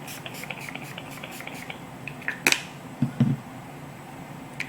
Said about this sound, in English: I like to spray my makeup with this when I finish